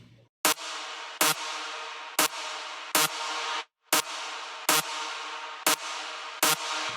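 Gritty, bright synth layer from the Power preset of the Nexus Kashmir bank, played as a loud, steady series of sustained chords, each opening with a sharp transient and breaking off into short gaps, with no voices.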